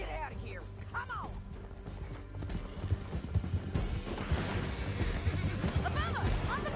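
In a Red Dead Redemption 2 gameplay chase, horse hooves clip-clop rapidly and a horse whinnies, with crashes and clatter around them and characters shouting over the action.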